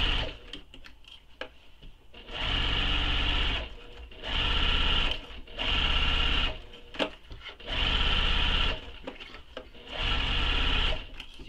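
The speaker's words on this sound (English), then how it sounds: "So this is that long bottom edge of that gusset that we're basting together right now." A sewing machine bastes the long bottom edge of a crossbody bag gusset, exterior and lining together, in five loud bursts of steady stitching separated by short pauses, with faint handling noises between runs.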